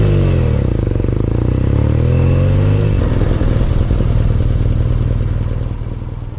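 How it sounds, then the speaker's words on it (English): A 2019 BMW R nineT Urban G/S motorcycle engine runs loud and close, its boxer-twin idle shifting into a deeper throbbing rumble partway through, with no talk over it. "there are a few people who can pick up the sound of this bike properly on videos"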